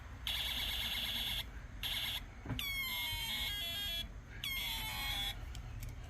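A vintage 1988 Binaca Blaster toy plays its photon sound effect on 35-year-old batteries, sounding strained: repeated bursts of bright electronic beeping and sweeping laser-like tones, fairly loud and steady, with no talking.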